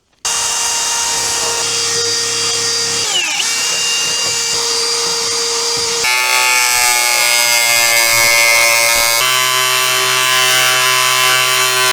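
Power tool cutting into the body metal of a BMW E46 Touring, a steady loud high-pitched whine that runs the full twelve seconds, shifting to a harsher, denser grind partway through, with no talk.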